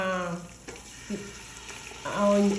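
Onion hitting a hot pan and frying, a fresh sizzle that swells near the end and joins the short stirring scrapes and the faint speech-like tones of a home kitchen.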